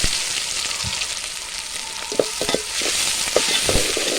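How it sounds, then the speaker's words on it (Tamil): Crushed shallots sizzle and crackle in hot oil, a steady frying hiss with occasional sharper pops and stirring. "அந்த நசுக்கி வச்சுருக்க சின்ன வெங்காயத்தை சேர்த்து தாளிக்கிறாங்க"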